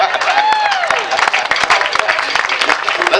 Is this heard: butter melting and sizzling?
no